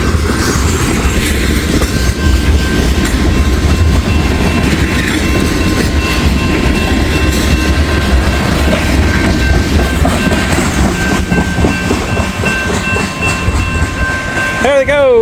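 A freight train on the old C&O line rolls westbound past at close range, a loud continuous rumble with clickety-clack of wheels over rail joints and occasional faint squeals, the end of the train passing by.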